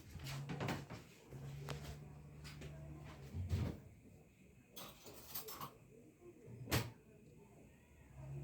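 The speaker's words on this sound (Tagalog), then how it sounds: "Sara natin pinto." A door being shut indoors, with a scatter of sharp clunks and knocks spread over several seconds above a low, steady hum, all fairly quiet and with no one talking.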